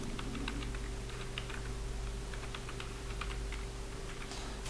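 Keys clatter on a computer keyboard as WordArt text is typed into a Microsoft Word 2016 document, with quick irregular clicks over a steady low electrical hum, and no voices.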